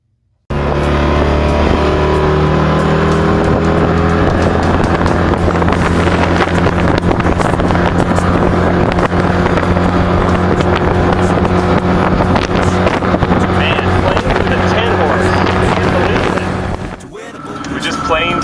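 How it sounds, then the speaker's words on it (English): A small 10-horsepower outboard motor on an 18-foot wooden dory carrying three people drones steadily at close range, a loud, constant engine hum with wind buffeting the microphone, cutting out near the end. "The boat with a 10-horse engine, 3 people on the boat."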